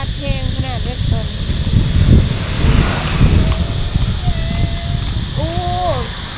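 Dry wind blowing outdoors as rain clouds gather, gusty rumbling buffeting the microphone throughout while people talk over it.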